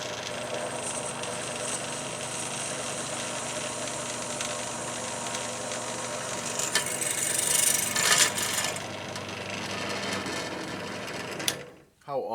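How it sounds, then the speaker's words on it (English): A drill bores through a 1976 Exidy Death Race arcade circuit board, a steady whirring grind that swells louder midway before the motor cuts off near the end. "And let's drill it on down."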